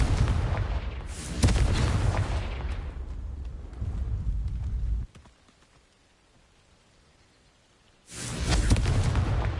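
Confringo fire-blast spell explosions in the video game Hogwarts Legacy: loud booming blasts with crackling rumble, a long roaring stretch that cuts to near silence before another loud explosive burst returns.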